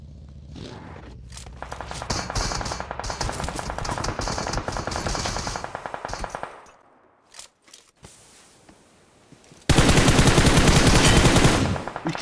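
Gunfire in the mobile battle royale game PUBG Mobile comes as rapid automatic bursts, loud and close, then a brief lull with scattered shots before another dense burst of fire at the end.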